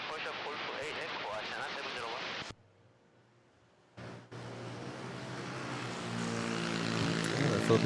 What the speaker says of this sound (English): Philippine Airlines flight to Legazpi. A320.